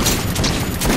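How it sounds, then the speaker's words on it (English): Gunfire in the video game Metro 2033 comes as a dense, loud burst of shots that fills a brief moment. "I guess I just shot him twice."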